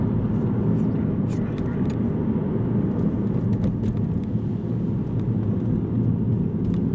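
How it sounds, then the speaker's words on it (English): Steady, loud engine drone from an Aston Martin Virage running under load, a continuous dense rumble with faint intermittent clicks on top and no letup throughout. "Well, you can definitely hear the valves opening."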